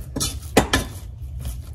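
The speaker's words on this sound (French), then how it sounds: "Sur le feu moyen, on va venir dessécher un petit peu notre pâte." Choux pastry dough stirred and dried in a saucepan over medium heat, a few sharp utensil knocks and scrapes against the pan, close with no voices.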